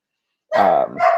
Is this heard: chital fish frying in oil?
no